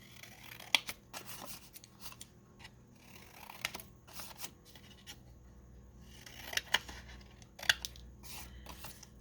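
Scissors cutting old book pages into paper ephemera, giving a few sharp, close snips in short irregular bursts over quiet room tone, with no talking.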